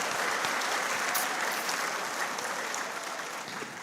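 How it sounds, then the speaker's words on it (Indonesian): Delegates at the LDII national working meeting (Rakernas) in 2023 give a round of applause. The clapping is broad and sustained, a large crowd heard at some distance, fairly soft and even throughout, tapering slightly toward the end. "boleh tepuk tangan buat LDI ini"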